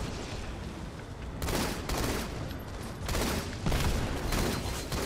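Dense, sustained team gunfire in a Halo: The Master Chief Collection multiplayer match, rapid overlapping shots rolling on without pause and swelling in louder waves.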